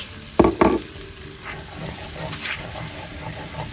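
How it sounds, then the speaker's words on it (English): Garlic hits a hot pan after shrimp were cooked in it, with two sharp clattering bursts as it drops in, then a soft, steady sizzle and light stirring scrapes. "we're now going to add in to our hot pan the rest of the garlic"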